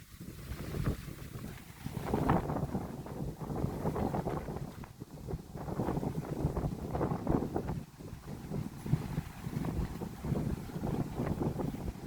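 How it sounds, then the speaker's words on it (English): Gusty wind on the Hawaiian coast at Kahala, buffeting the microphone in uneven surges that rise and fall across the whole stretch. "It's a little on the windy side, so I'm not going to talk too much."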